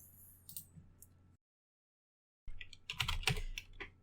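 Typing on a computer keyboard while setting up a Python programming session, with soft scattered key clicks, then a second of silence, then a quicker, louder burst of close keystrokes.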